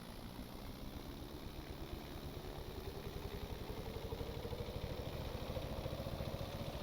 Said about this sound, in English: by having the brakes on, this allows us to get the engine spooled all the way up